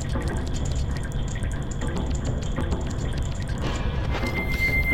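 Waterfall from Zelda: Majora's Mask, a steady, loud broadband rush of falling water running unbroken throughout with faint dripping detail on top.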